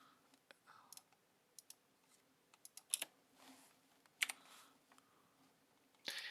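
Scattered keystrokes on a computer keyboard, quiet and irregular clicks with a few brief bursts, set against a faint room hush and no talk.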